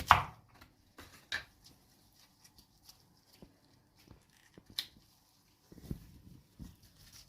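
Beetroot sliced thin with a shaping cutter: a few quiet, sparse chopping taps and soft knocks spaced out over a near-silent background, with no voices.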